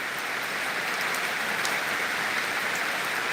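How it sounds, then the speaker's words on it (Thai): Steady rain falling outside a rural home, a continuous even hiss with faint scattered drop ticks and no voices. "แต่ฝนก็มาตกซะก่อน"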